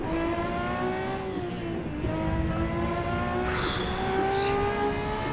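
Ferrari 512S racing car in the Assetto Corsa video game on the Targa Florio road course, its engine a loud, close, sustained roar that rises and falls with gear changes, with a brief squeal of tyres near the end.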